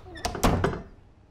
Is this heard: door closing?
yes